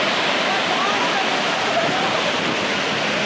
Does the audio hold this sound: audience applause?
no